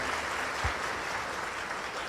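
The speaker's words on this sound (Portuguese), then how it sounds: "pode aplaudir o presidente" Audience at a monthly thanksgiving church service applauding the president, a steady broadband patter of many hands clapping at moderate distance, continuous and even throughout.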